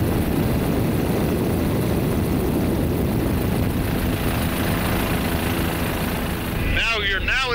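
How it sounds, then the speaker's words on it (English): Steady loud drone of a helicopter in flight over the Guatemalan jungle near the ancient city of Mirador, a continuous rotor and engine roar heard from inside the cabin that drops off abruptly near the end. "So I'm in a helicopter with Dr. Richard Hansen"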